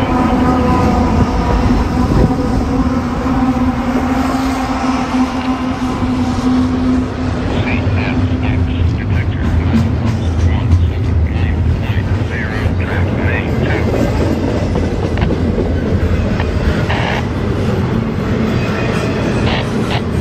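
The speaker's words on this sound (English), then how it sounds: "a northbound intermodal train made his way through" A CSX northbound intermodal freight train passes in Nashville, Tennessee, a loud, close, continuous rumble and clatter of wagons on rail with a steady engine drone, building in grinding intensity through the middle and holding to the end.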